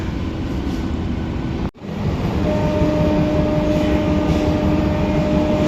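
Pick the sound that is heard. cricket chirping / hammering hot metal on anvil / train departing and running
train departing and running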